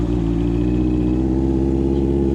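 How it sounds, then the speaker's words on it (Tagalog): A 2024 Honda CB650R E-Clutch motorcycle runs at a high idle just after a cold start, a loud, steady, close engine drone with an even, unbroken hum throughout and no talking. "Cold start muna."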